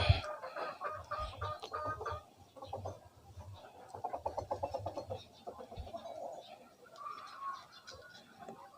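Chickens cluck repeatedly at close range in short bursts, with a person talking intermittently over them.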